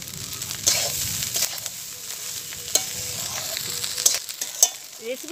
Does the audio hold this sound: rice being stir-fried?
yes